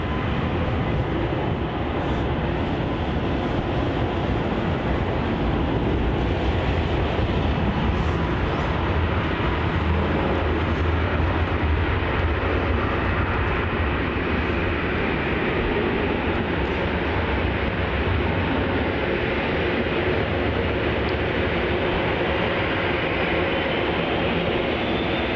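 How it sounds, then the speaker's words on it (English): A Jetstar airliner takes off from Melbourne Airport, a steady, broad jet roar that holds at an even level throughout with no voices over it. "Taking off here, we have Jetstar flight JQ794 to the Sunshine Coast."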